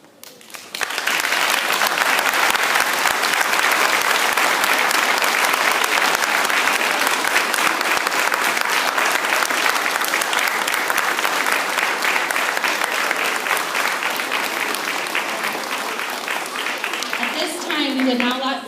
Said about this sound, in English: if you could please stand for one last round of applause